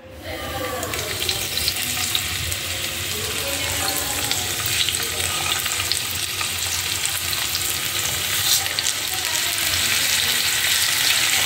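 Fish fries in a pan of hot oil, a loud, steady, dense sizzle that runs unbroken for over ten seconds.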